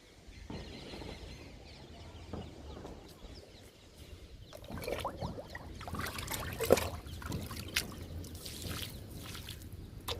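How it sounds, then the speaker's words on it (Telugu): Liquid fertilizer trickles and pours onto a potted curry leaf plant in a garden, soft uneven splashing up close with faint birdsong outdoors. "కరివేపాకు మొక్కకి ఇస్తున్నాను లిక్విడ్ని"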